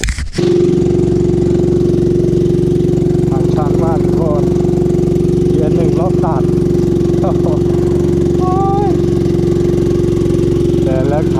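A motorcycle engine drones steadily and loudly while riding, with a constant low hum throughout and voices speaking briefly over it.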